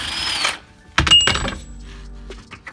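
An impact gun rattles off a subframe bolt on a Honda Integra, a short whirring burst followed by a louder hammering burst and a metallic clink as the bolt comes free.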